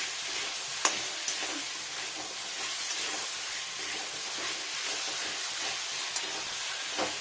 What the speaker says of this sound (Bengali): সেভাবেই কষিয়ে নেবো পুরো মশলাটা